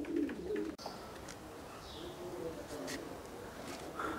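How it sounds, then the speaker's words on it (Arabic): Homing pigeons coo softly while feeding in a loft, with low, throaty calls and an occasional brief chirp against a quiet, steady background. "نخليو دابا هاد الحميمات ياكلوا"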